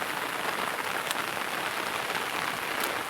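Heavy monsoon rain in May beside a flooded river in rural Konkan, a dense, even hiss of downpour continuous throughout, fairly soft and with no voices.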